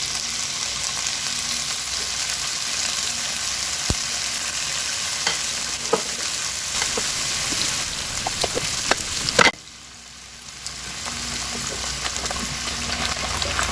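Tomatoes fry in a pan with a steady, dense sizzle and occasional stirring clicks, the sizzle easing back briefly near the end before continuing quietly, with no voice.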